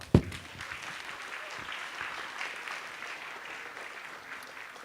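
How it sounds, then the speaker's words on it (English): Applause from a conference audience at an international pharmaceutical research event, a steady wash of clapping sustained from start to finish after a brief sharp onset, moderately distant and without speech. "Let us give her a round of applause for her exceptional work."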